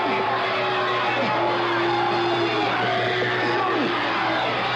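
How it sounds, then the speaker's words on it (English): A crowd in the Veterans Auditorium in Petaluma cheering and yelling during a 1974 wrist wrestling championship bout, a loud, sustained roar with whoops and shouts rising and falling, under a commentator's voice. "listen to that crowd in the Veterans Auditorium in Petaluma. They're cheering for the man with his back to you, for Jim Dolcini"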